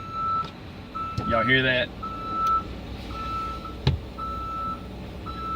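A truck's reversing beeper at a truck stop sounds steady, evenly spaced tones at mid distance, while someone talks briefly over it and other vehicle noise hums in the background.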